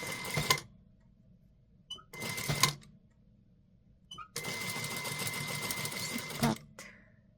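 A sewing machine stitches a neckline in three runs: two short bursts, then a longer steady run, with quiet pauses between them.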